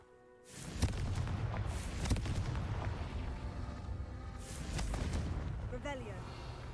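Confringo spell explosions in Hogwarts Legacy, booming blasts that hit sharply around the first and second seconds and again near five, over rumbling debris, with a voice speaking in between.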